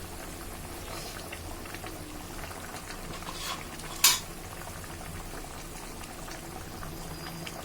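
Hilsa fish simmering in mustard sauce under a covered pan gives a steady, soft bubbling murmur throughout, with one brief sharper crackle midway.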